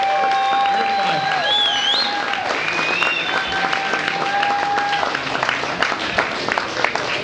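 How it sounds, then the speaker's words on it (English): A crowd applauds fighters at a mixed martial arts event, steady clapping and cheering while whistles and a voice rise over the noise. "give these guys another round of applause"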